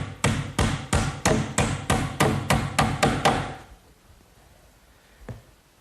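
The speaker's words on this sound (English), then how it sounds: "I'll just secure that with some finish nails, 6-penny finish nails." Hammer driving 6-penny finish nails into an oak bathroom vanity, about a dozen sharp, evenly spaced blows close up, then quiet with one last lighter tap.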